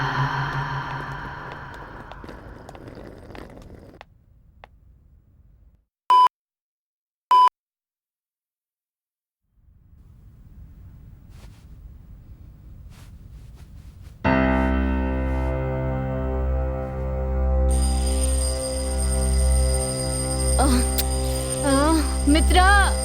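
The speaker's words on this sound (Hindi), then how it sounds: "अलार्म बज रहा है।" An alarm in a Hindi-dubbed South Indian film scene: two short, loud electronic beeps ring out after a stretch of dialogue, followed by silence, low rumble and then swelling dramatic music.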